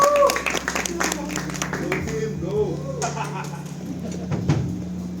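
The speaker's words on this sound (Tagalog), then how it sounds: "Palakpak po muna tayo." Audience clapping at an EP launch event, a scattered round of applause with taps and claps spread across the clip, mid-distance, mixed with people talking over it.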